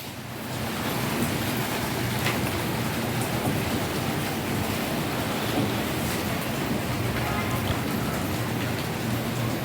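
Rain pours down during stormy weather in Punjab, a dense, steady broadband hiss that swells in within the first second and holds constant to the end, with no voices.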